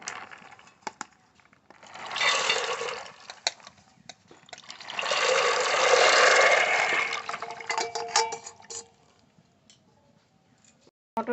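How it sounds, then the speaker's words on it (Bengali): Dried peas are poured into salted boiling water in a pot as two pouring bursts, a short one and then a longer swelling rush, with quiet ticks and clinks around them and no talk. "জল গরম হয়ে গেছে একটু লবণ দেব এবার মটর সিদ্ধ করে নেব মটর ঢেলে দেবো"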